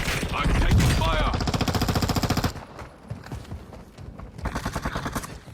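Rapid automatic gunfire in the video game Warzone 2.0, loud bursts of dense repeated shots with a pause and a second burst near the end, with a voice speaking over part of it.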